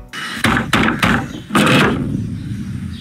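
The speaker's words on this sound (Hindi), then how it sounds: "दरवाजा खोलो, दादा मनोहर भाई के नाम पर वारंट है" Loud, close knocks and bangs on a door in a Hindi film scene, several heavy thuds in quick irregular succession followed by a fading reverberant tail.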